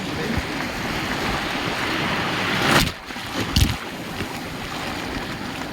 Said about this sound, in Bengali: গাইস ঢেউ অনেক উপরে উঠছে আস্তে আস্তে